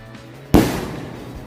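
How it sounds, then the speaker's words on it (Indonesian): A mercon bola pelontar firecracker bursts with one sharp, loud bang, then a short noisy tail of echo and debris, with no voices. "yang selanjutnya ini kita nyalain mercon bola pelontar"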